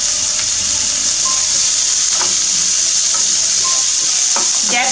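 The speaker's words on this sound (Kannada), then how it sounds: "ಗ್ಯಾಸ್ ಫ್ಲೇಮ್ನ ಮೀಡಿಯಮಲ್ಲಿ ಇಟ್ಕೊಂಡು ಇದನ್ನು ಒಂದೆರಡು ನಿಮಿಷ ಈ ರೀತಿ ಫ್ರೈ ಮಾಡ್ಕೊಳ್ಳೋಣ" Beans and carrots with turmeric and salt fry in a pan over a medium gas flame, giving a steady loud sizzle with occasional clinks and stirring scrapes.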